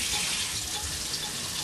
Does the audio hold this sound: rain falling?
no